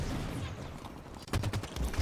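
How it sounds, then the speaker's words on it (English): A burst of rapid gunfire in the video game Halo 5 comes after a quieter stretch, sharp repeated shots clustered in the last second, loud and close with a muffled low rumble underneath. "They're shooting at me."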